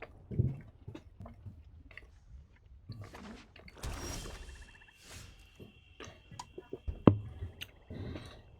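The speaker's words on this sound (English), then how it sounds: "I didn't want you to hear me chewing" A person chews food right beside the microphone, with moist crunching, clicks and mouth noises coming in irregular bursts, close and intimate, with no speech.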